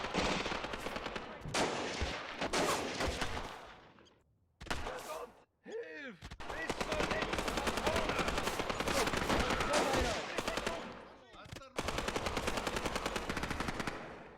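Gunfire from the Graviteam: Fateful Strike war game, with rapid machine-gun bursts and single shots rattling in repeated loud volleys, broken by a few brief silent gaps.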